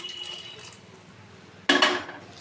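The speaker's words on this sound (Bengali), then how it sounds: "এই গরম জলটা আমি এর মধ্যে দিয়ে দিলাম" Hot water is poured into dal simmering with spices in a cooking pot, a sudden loud splash and gush lasting about half a second before settling into a softer trickle, after quiet kitchen background.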